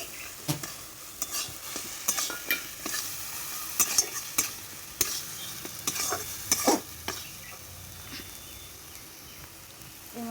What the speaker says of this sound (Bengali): এর মধ্যে আমি ভাজা রাখা চিংড়ি মাছগুলো দিয়ে দেবো।